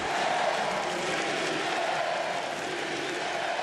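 Crowd at the SLS Super Crown 2022 skateboarding contest in Rio de Janeiro chanting, a dense, continuous roar of many voices that holds steady and loud throughout.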